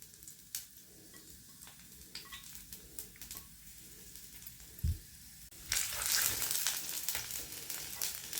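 Garlic fries in hot oil for a prawn and raw mango curry, a soft, low sizzle with faint ticks that swells into a louder, brighter hiss partway through.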